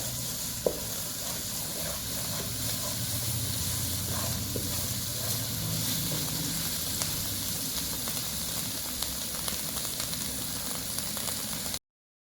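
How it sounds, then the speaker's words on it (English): Chopped garlic fries in hot oil for a lentil dal, giving a steady, close sizzle and hiss with faint stirring scrapes that runs unbroken and alone throughout. "Add chopped garlic and fry for 30 seconds."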